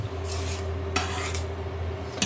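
Soaked rice and chicken are stirred in a hot pan, giving a soft sizzle over a low steady hum with two bursts of scraping and a clink of a utensil at the end.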